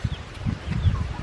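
Chickens in a homemade cage, a few soft low clucks and murmurs close by, rising and falling over the short moment with no talk.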